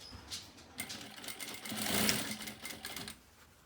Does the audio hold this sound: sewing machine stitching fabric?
yes